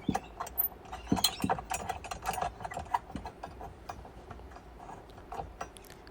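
A nut being tightened onto a bolt on a car battery clamp during a Toyota RAV4 battery replacement, giving close, irregular metallic clicks and ratcheting ticks, with no talk.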